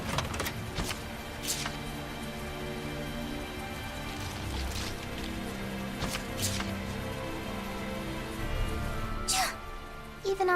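Steady rain pours throughout a rainy scene in the video game Tales of Zestiria, a constant wash of droplets with occasional sharper hiss-like bursts and soft game music underneath.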